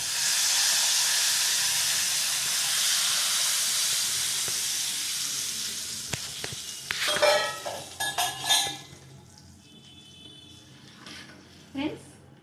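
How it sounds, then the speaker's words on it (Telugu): Raw tamarind broth for pachi pulusu being poured into a pan, heard as a steady broad hiss that thins out, then a few clattering knocks and splashy bursts near the end. "ఇందులో మనం ముందుగా ప్రిపేర్ చేసి పెట్టుకున్న పచ్చి పులుసు ఇందులో పోసేసుకుందాం"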